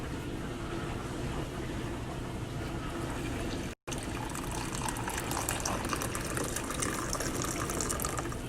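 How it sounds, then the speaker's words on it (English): Water pours through a Melior pour-over coffee maker in a steady, gushing trickle that breaks off for an instant midway and then continues, close and with no talking. "I don't know if you can pour through it. Yes, you can."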